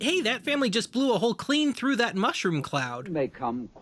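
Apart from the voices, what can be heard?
No everyday noises stand out.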